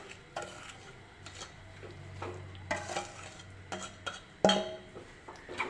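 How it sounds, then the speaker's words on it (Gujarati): Amla and sugar mixture stirred in a kadai over low gas, a spoon scraping and clinking against the metal pan in soft repeated strokes with a faint sizzle beneath, plus a few sharper knocks near the end. "હવે આપણે તેને ધીમા ગેસે હલાવતા રહીશું અને થવા દઈશું"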